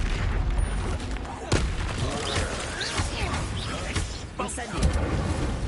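The Expulso blasting spell from the video game Hogwarts Legacy detonates in sharp booms amid the continuous clatter and crashes of a battle, with voices shouting over the fight.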